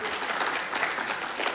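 A live event crowd cheering and applauding at a Summer Games Done Quick 2019 speedrun marathon, a dense, loud wash of clapping filling the whole short stretch without pause.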